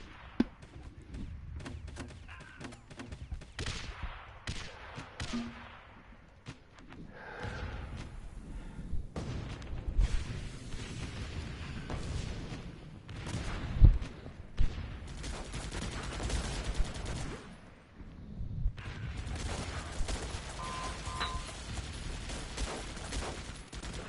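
Triple anti-aircraft guns in the war game Guns Up, rapid bursts of gunfire repeating in dense volleys over twenty seconds, with sharp cracks, dull thuds and brief lulls between firing.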